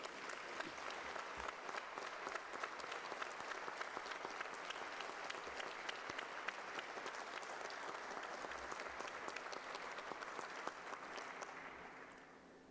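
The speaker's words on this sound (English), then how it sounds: "Let's give them a round of applause." An audience at a conference closing session claps steadily in sustained, even applause that carries on for several seconds before tapering off near the end.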